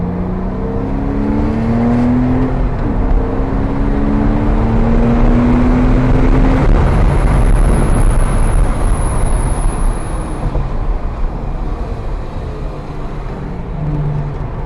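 A learner driver's car engine accelerating steadily, loud and continuous, with a rising engine tone that climbs in pitch over several seconds and a sustained roar throughout, no talking.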